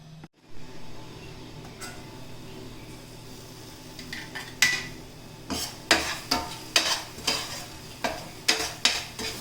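Ivy gourd stuffed masala curry fries in a pan with a steady soft sizzle, then a run of regular spoon scrapes and clacks against the pan in the second half, close and fairly loud.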